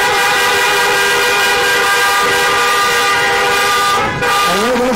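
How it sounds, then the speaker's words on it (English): Vehicle horns blare in a long, loud, sustained honking at an outdoor Chinook convocation gathering, one tonal horn holding on throughout with another joining briefly near the end. "honk your horns!"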